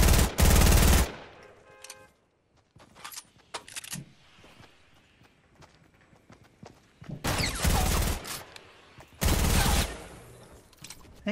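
Rapid automatic gunfire in the video game Fortnite, loud close bursts that return several times with quieter clicks and game noises between them.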